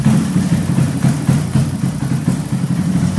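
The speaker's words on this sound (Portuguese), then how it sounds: "Então vai dar uma ligadinha no tanque agora." A 351cc motorcycle engine idles close by, a loud, steady low-pitched thrum with an even pulsing rhythm and light mechanical clatter, no voices.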